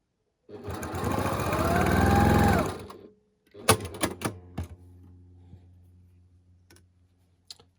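A home sewing machine stitches a red square onto a quilt block, running in one loud sustained burst of about two and a half seconds, then stopping. Short clicks and ticks of handling the fabric and machine follow, with no talking.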